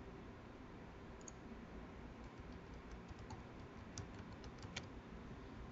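Someone types a password on a computer keyboard, a few soft, quiet key clicks scattered over a faint steady hiss, with no voices.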